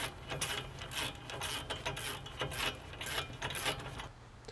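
Wrench ratcheting as Wilwood brake bracket bolts are tightened on a 2017 RAM 2500 front brake, a steady run of quick mechanical clicks at close range with no talking.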